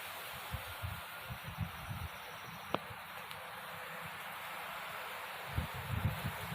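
Steady broadband wind roar with low gusty rumble and rustling of tree leaves throughout, plus a brief sharp tick midway; no speech.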